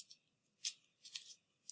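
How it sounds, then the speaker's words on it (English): Scissors snip through folded paper while a paper snowflake is being cut, giving a few crisp, close cuts spaced apart over quiet room background. "Just go slow, and your scissors will get through it eventually."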